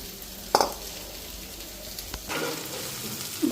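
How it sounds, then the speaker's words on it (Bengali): An egg fries in oil in a pan, with a low crackling sizzle broken by a few sharp clinks of utensil against the pan. "এক পিঠ খালি ভাজছি আর এক পিঠ ভাজিনি"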